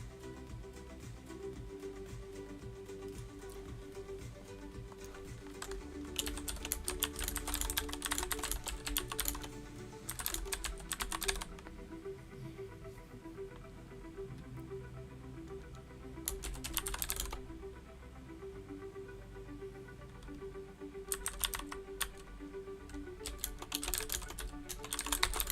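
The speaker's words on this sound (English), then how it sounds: "My keyboard that loud?" Typing on a computer keyboard at a desk, with bursts of rapid clicking keystrokes separated by quieter pauses, heard close over a steady low background hum.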